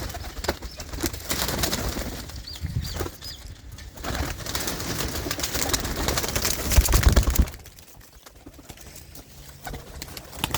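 Pigeons kept by a village fancier coo in repeated low throaty calls close by, with occasional bursts of wing flapping and shuffling, then a quieter lull near the end.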